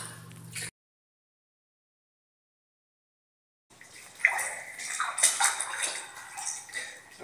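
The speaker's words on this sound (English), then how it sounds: "What I can hear is running water" Running water inside the long, flooded Manshead Tunnel at Turvin Clough, Cragg Vale, a steady rushing and splashing flow heard alone after a silent gap, growing louder partway through.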